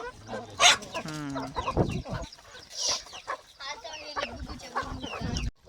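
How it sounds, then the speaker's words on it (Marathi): Colourful free-range country chickens and roosters on a farm cluck and call repeatedly, close and lively, with people talking intermittently among the birds. "कोंबडी बी म्हणजे हे कोंबडाच आवडतं बऱ्यापैकी छान झाले त्या मोठे मोठे"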